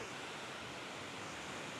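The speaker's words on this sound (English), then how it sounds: "Here's the waterfall just behind us." Broad, steady rush of a small waterfall pouring over a full dam wall at a caravan park, a continuous hiss filling the whole clip at moderate distance with no talk over it.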